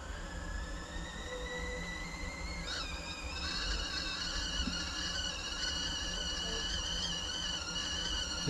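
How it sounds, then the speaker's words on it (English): A kettle coming to the boil gives a steady, faint background hiss and rumble, with thin, high whistling tones slowly rising over it. "I think that's the kettle boiling, Buttercup."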